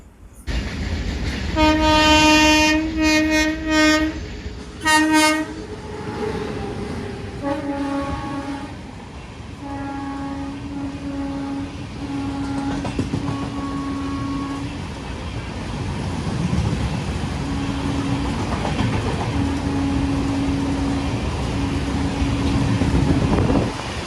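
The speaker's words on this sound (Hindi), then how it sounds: "कोई ट्रेन है जो हमको यहाँ पे ओवरटेक कर रही है ग्रीन सिग्नल के साथ।" At a station, an express train overtakes on the main line while another train waits on the loop: horn blasts ring out loud and near at the start, then the rumble and repeated sustained horn tones of the passing train continue throughout.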